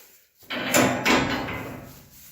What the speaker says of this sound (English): Shut this gate.